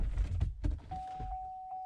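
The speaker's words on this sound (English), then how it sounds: "Play the little door open noise." A Chevrolet Suburban door opens with clunks and rustling handling noises, then a thin electronic door-open chime starts up and holds steadily, pulsing softly while the car sits quietly.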